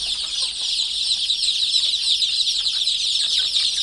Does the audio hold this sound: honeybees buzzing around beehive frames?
no